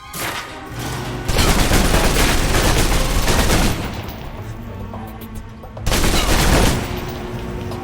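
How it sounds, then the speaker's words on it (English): Submachine gun fire in the Alpha Protocol video game: rapid automatic bursts crackle loudly in two long volleys, with a lower rumbling, echoing background between them. "If you're trapped in close quarters with multiple opponents, the SMGs can help clear the room quickly."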